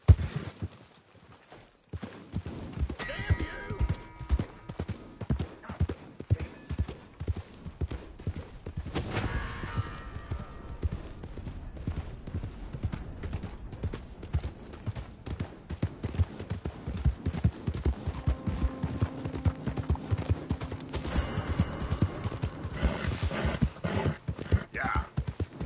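Horse ridden at a steady clip-clop in Red Dead Redemption 2, hooves beating in a continuous rhythm across the ride, with short pauses and brief bursts of other game sounds layered in.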